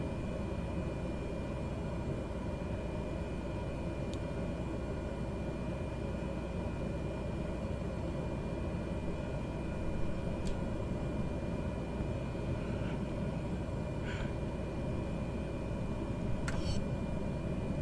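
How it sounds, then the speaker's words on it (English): Cessna 208B turboprop taxiing toward the runway in Microsoft Flight Simulator 2020, a steady, even engine drone with a constant broad hum and a few faint clicks, unbroken throughout and without talk. "So, we'll start the taxi and then we're going to speed up to get down to the end of the runway and get ready to go."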